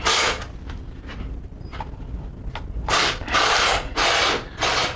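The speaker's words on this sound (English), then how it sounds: "We'll clean our mating surface of our lower intake." A lower intake manifold mating surface on a 1996 Chevy K2500 is scraped clean, with short rough rubbing strokes in bursts, close and moderately loud, the last few strokes longer and louder.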